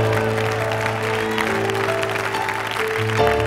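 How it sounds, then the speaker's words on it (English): Congregation clapping at a church revival service, a dense steady wash of applause with organ or music tones sustained underneath throughout. "Somebody clap your hands like she's getting free."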